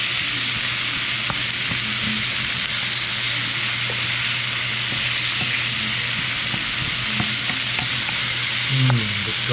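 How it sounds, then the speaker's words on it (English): Garlic, onion and green peppers fry in a pan, producing a loud, continuous close sizzle with scattered clicks and scrapes from stirring and a low steady hum beneath. "I'm going to stir it up and then let it cook for a bit, then set it aside."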